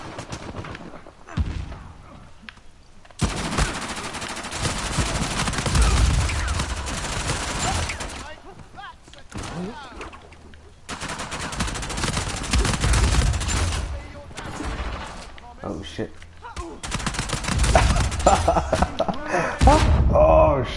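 Dense gunfire from an Uncharted 4 online multiplayer match: repeated bursts of rapid shots and thuds filling most of the stretch, loud and close, with players talking over parts of it.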